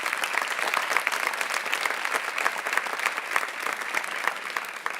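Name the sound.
church congregation applauding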